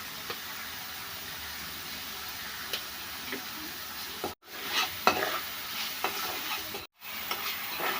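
Ginger, garlic, onions and green chilies sizzle steadily in a hot pan, broken by spoon scrapes and light clicks of stirring, with two brief dropouts where the sound cuts out entirely.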